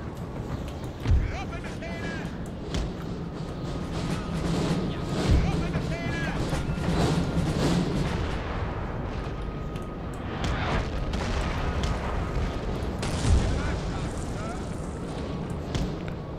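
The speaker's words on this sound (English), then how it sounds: "Spread our troops out to avoid that incoming cannon fire." Cannon artillery booms during a Napoleon: Total War battle, several deep thuds spread across a busy battlefield din with distant crashes, while a voice talks throughout.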